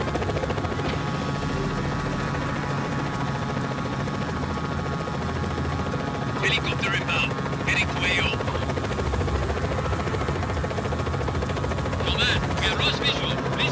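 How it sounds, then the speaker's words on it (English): A helicopter in the action game Just Cause 4 drones steadily throughout, a loud continuous rotor hum with game voices talking over it and scattered bursts of other effects. "Hostile now in chopper."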